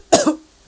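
A person gives two short, close coughs, the first a sharp rasping burst, then a brief pause before the second begins at the end.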